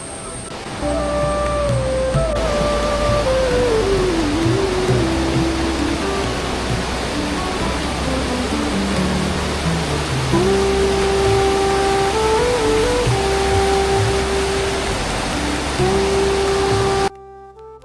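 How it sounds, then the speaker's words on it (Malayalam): A loud, roaring waterfall at Anjukuzhi Temple in heavy rain, a continuous dense rush of water with a soft melody playing over it. "കനത്ത മഴയിൽ വെള്ളച്ചാട്ടം പൂർണ്ണ ശക്തിയോടുകൂടി താഴേക്ക് പതിക്കുകയാണ്"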